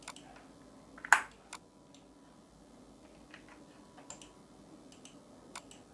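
Keys tapped on a computer keyboard while working in CATIA V5 CAD software: a few scattered, close clicks, one sharper and louder than the rest, over a faint room hum.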